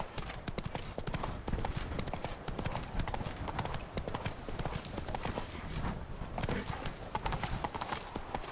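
Roach the horse gallops in The Witcher 3, its hooves beating a fast, steady clip-clop rhythm that runs loud and close the whole time, with a brief voice.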